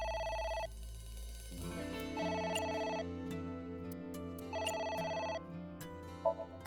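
A telephone ringing in repeated bursts of electronic bell tones with pauses between them, fairly clear over a background of game music and effects.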